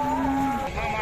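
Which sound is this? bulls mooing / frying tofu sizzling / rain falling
bulls mooing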